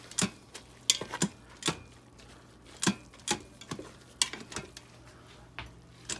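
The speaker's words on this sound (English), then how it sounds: "Let me give that a bit of a stir." Spoon scraping and clinking through a freshly pressure-cooked savory breakfast dish in a pot, a series of sharp irregular knocks and scrapes, close and fairly quiet, with no talking.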